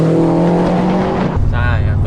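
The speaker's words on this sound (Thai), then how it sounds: "เสียงเครื่องบ็อกเซอร์เป็นเอกลักษณ์มากจริง" A Subaru Impreza GDB with a boxer engine, its lowered car running with a loud, close engine note that rises and then drops into a deeper throbbing rumble.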